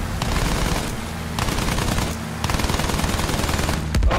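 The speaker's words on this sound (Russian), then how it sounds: "Проверь пулеметы! Огонь по готовности!" Sustained machine gun fire in the Battlefield 1 video game, loud continuous rattling bursts with brief breaks, dense and close, with a heavier impact near the end and no talk.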